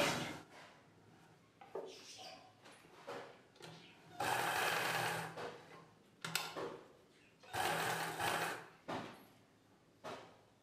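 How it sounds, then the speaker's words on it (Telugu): A sewing machine stitches blouse fabric in several short runs of rapid whirring, separated by quiet pauses and small handling clicks, fairly close but not loud. "ఈ ఎక్స్ట్రా పీస్ని ఈ కుట్టు పైవైపునకు వరకు ఫోల్డ్ చేసి కుట్టు వేసుకోవాలి"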